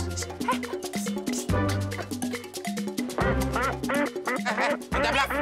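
Loud, repeated duck quacks in quick succession, layered over a busy backdrop of other tonal sounds with no talking.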